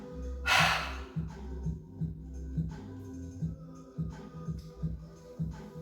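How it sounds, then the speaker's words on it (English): A person takes a deep breath in, then breathes out through the mouth during a yoga warm-up. One sharp loud inhale comes first, followed by softer, rhythmic breaths close to the listener. "Inhale deeply, exhale through the mouth."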